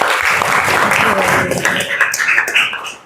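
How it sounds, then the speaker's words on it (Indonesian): Classroom applause for a presenter during an Islamic religious education teacher-training session in Yogyakarta, a short burst of group clapping heard over some background voices and fading out after about three seconds. "tepuk tangan buat Mas Afandi."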